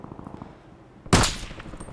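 A single sharp SVD sniper rifle shot in a video game cracks out loud and close, its broadband blast decaying over a fraction of a second above quieter game ambience.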